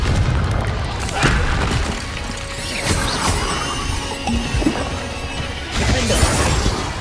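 Confringo explosive spell in Hogwarts Legacy: a series of booming blasts with crashing, shattering debris, several loud impacts spread across the stretch over continuous game ambience.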